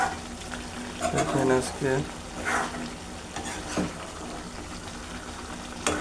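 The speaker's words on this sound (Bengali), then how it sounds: "আজকে আমরা খাসির মাংস রান্না করতেছি।" Goat meat cooks in a pan with a steady, moderately loud sizzle, while someone talks briefly over it before the frying carries on alone.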